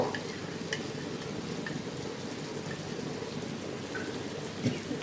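Nut paste sautéed into a soybean-chunk and potato curry, a dense, steady crackling sizzle like rain, with occasional faint clinks of a spoon, close and continuous with no voices.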